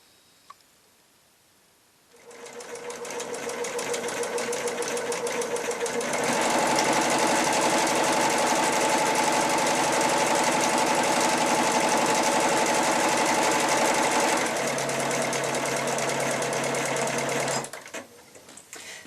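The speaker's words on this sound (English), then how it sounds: "a computerised sewing machine" A computerised sewing machine starts up and runs steadily for about fifteen seconds, rapid mechanical stitching loud and close, changing pitch partway before stopping.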